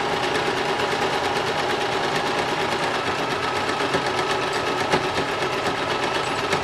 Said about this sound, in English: begin to sew a straight line